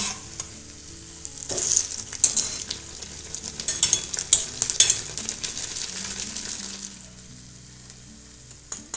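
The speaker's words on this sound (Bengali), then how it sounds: "তেলটা গরম হয়ে গেছে এবার আমি একে একে মালপোয়াগুলো ভেজে নেব" Sweet potato malpua fry in hot oil with a continuous crackling sizzle, broken by sharp metal clinks and scrapes of a utensil against the pan as the pieces are turned. No voices.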